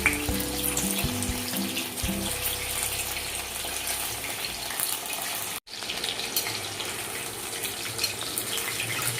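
Chicken pieces for Chicken 65 frying in hot oil, a continuous dense crackling sizzle heard up close, with a brief dip partway through and no voices.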